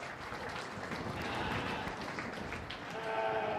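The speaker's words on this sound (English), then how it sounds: "Give these kids a good round of applause for being out here today." Audience applause at an outdoor sheep show, honouring young exhibitors. Steady, moderately distant clapping from a crowd runs throughout without a break.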